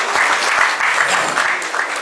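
At a Bhagat Singh award ceremony, a crowd claps hard for an honoured social worker, a loud, continuous patter of many hands that stays even throughout.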